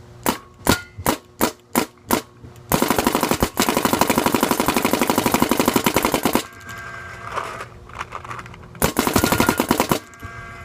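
A tuned Planet Eclipse GSL paintball marker fires a handful of single sharp shots, then long rapid bursts of pops in fast streams with a short pause between, loud and close with no talk.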